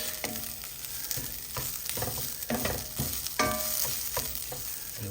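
Rice toasting in a hot pan for Spanish rice, a continuous soft sizzle broken by repeated scraping stirs of a utensil, moderately close, no voices.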